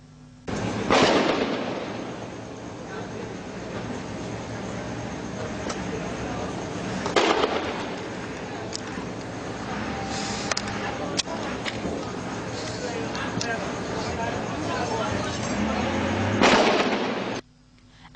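Heavy gunfire during a clash between security forces and armed men on Red Hills Road, Jamaica: loud bursts and cracks keep going for the whole stretch over constant outdoor noise, with sharper volleys near the start, middle and end.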